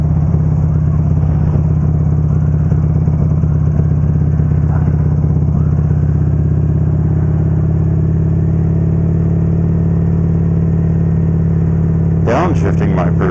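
A Buell motorcycle engine, ridden without foot pegs after a crash, drones steadily at a low pitch through a gear change, with a brief clattering burst near the end.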